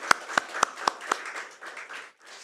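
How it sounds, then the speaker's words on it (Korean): A church congregation applauds the choir: five sharp, evenly spaced claps ring out close by, then a softer, scattered patter of clapping fades out. "우리 크게 박수 한번 할까요?"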